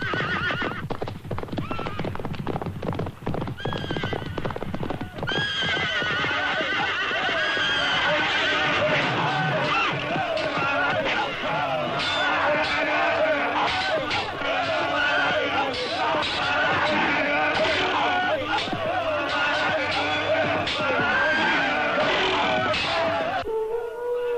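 Norman cavalry horses charge in battle, hooves clattering and horses neighing repeatedly over a dense, loud, continuous battle din with swelling music throughout.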